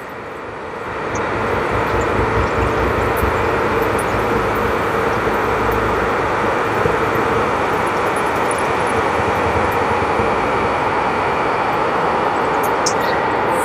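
Mustard oil expeller machine pressing ten kilograms of mustard seeds, a loud steady mechanical drone with heavy low rumble that builds in the first second and then holds constant, close and continuous with no talk.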